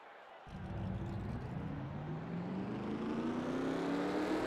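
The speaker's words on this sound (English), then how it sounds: "Drivers, start your engines!" Race car engines fire up and rev in a NASCAR Cup Series video game at New Hampshire, a sudden loud start followed by a rising, sustained engine drone with faint voice in the background.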